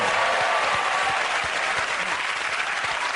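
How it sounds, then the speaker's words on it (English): Studio audience applause on a comedy panel show, a dense, even roar of clapping that fills the whole stretch at steady loudness. "Let us applaud him."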